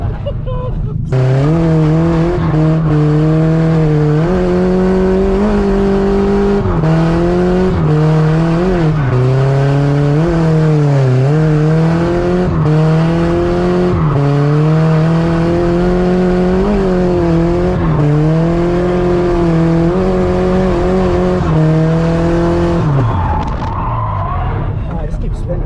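A Nissan S14 drifts and spins out, its engine held at high revs with steady harmonic pitch swells and dips for most of the stretch, loud and close, with tire squeal blended in and voices talking over it.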